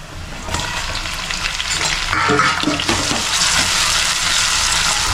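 Tomatoes go into a pan of golden-fried onions in a home kitchen, with a steady, close sizzle and stirring scrapes that grow brighter and louder after the first second.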